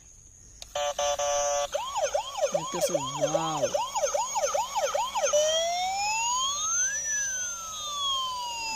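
An electronic toy ambulance siren wails in rapid rising and falling sweeps, loud and close, then slows into long gliding tones; a voice speaks briefly at the start.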